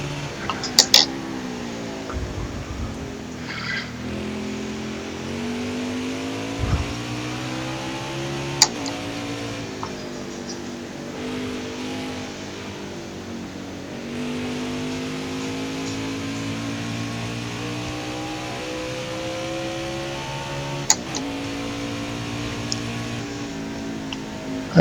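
Race car engine from NASCAR Heat 5 lapping Road America in an Xfinity car, a steady droning note rising and falling with shifts and cornering, continuous throughout with occasional brief clicks.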